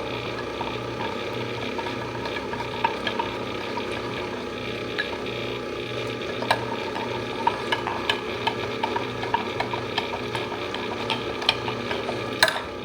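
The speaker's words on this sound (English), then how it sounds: "And wait for our milk to froth" Electric milk frother whirring through milk for a pumpkin spice latte at home, a steady, low mechanical buzz with faint rattling clicks running continuously and close by, without talk.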